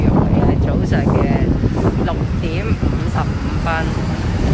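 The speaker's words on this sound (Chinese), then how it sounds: "啲风都好劲" Strong wind buffets the microphone outdoors on a cold morning street near a market, a heavy low rumble running continuously under a person talking.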